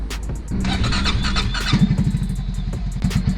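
A Vort 300 R motorcycle engine cranks and fires up, settling into a loud, close, rumbling idle with rapid putters.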